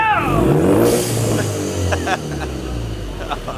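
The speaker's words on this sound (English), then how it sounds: "that's a modern Ford EcoBoost turbo 4-cylinder" A modern Ford EcoBoost turbocharged four-cylinder in a race van revs hard with rising and falling engine pitch, loud and close, as a voice talks over it.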